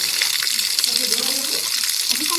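Water gushes steadily from a tap in a continuous bright hiss and splash, close and fairly loud throughout.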